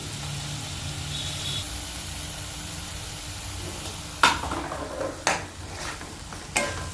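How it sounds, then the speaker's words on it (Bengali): Spice masala with ground black pepper and sour yogurt being stirred and fried in a pan for a broccoli dish: a low steady sizzle, then a few sharp spoon scrapes and clinks against the pan near the end. "ভালো করে নেড়ে চেড়ে মা এখন মশলাটাকে কষিয়ে নেবে"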